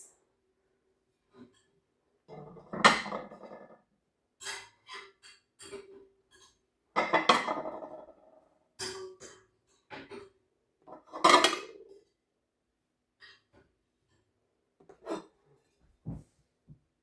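Soup bowls and dishes clink and knock as they are set down one by one in a kitchen, a series of sharp ceramic taps in irregular clusters with quiet gaps between them.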